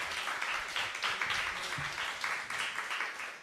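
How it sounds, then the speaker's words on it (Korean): A church congregation at a family worship service applauds the winners, a soft, fairly distant patter of many hands with a gently pulsing rhythm that runs steadily on its own. "우승하신 이건희 장로, 김결희 지사님께 큰 박수 부탁드리겠습니다."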